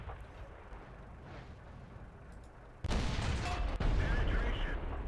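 A World of Tanks tank cannon fires one loud, sudden boom partway through, followed by a second heavy blast and rumbling, over a low background drone.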